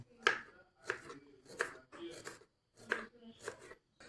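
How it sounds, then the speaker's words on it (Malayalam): A knife chops ginger finely on a board, six sharp distinct strikes in an uneven rhythm, close and fairly quiet, with no talk. "ഇഞ്ചി സുട്ടു ചെറുതായിട്ട് അരിയുവാണ്."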